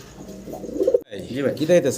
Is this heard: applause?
no